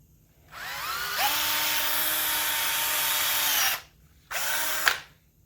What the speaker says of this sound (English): Okay, I'm going to drill a hole in this end cap.